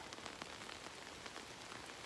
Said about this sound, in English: Well, the rain's here.